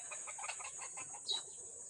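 Gamefowl in a breeding pen on a Red Tiger farm give faint clucks and calls against a steady high hiss, with one brief sharper call near the end.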